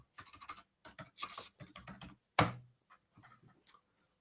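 Keystrokes on a computer keyboard, typed in short irregular bursts close to the mic, with one louder sharp clack partway through and quieter taps trailing off.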